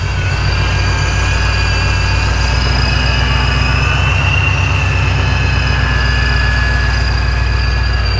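A supercharged 2005 Ford Mustang GT with a Vortec V2 supercharger and Ford Racing parts idles steadily and close by. It holds a constant low, rumbling throb, with a faint high whine sitting over it.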